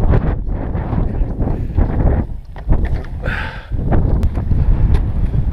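Wind blowing hard into the microphone high on a mountain, a loud constant buffeting roar that gusts and dips without any talk.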